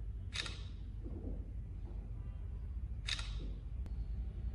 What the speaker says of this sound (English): how you can turn off the camera shutter sound on the Samsung Galaxy A12